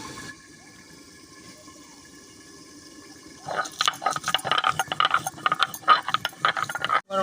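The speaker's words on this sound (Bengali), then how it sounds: "আমি গোটা গরম মশলাটা বেটে নিই" Whole garam masala spices are ground by hand in a rural home kitchen: quiet hiss at first, then close, rhythmic scraping and rattling strokes in the second half.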